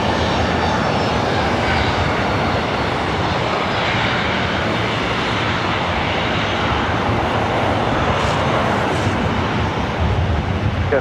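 A jet airplane at LAX airport, its engines roaring loud and close in a steady, broadband rush for the whole stretch, swelling slightly toward the end.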